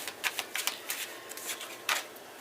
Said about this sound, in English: I'm doing 3 more shuffles.